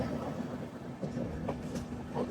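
A train rolls steadily on its rails, giving a continuous rumble from inside the carriage with faint rhythmic clacks and a low, steady hum.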